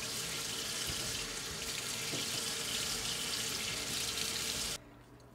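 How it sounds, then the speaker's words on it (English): Tap water runs steadily into a sink as a makeup brush is rinsed, a continuous close hiss and splash that cuts off abruptly near the end. "I'm gonna give this a quick rinse"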